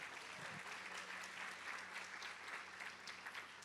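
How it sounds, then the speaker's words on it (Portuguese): A church congregation applauds during a worship service, a dense, steady patter of many hands clapping at once, filling the room with no voices above it. "Vamos aplaudi-lo por causa da ressurreição."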